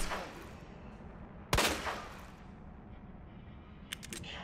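A gunshot from the survival horror video game Resident Evil 2 Remake rings out sharply at mid-clip, followed by a few faint clicks and taps near the end over a low game ambience.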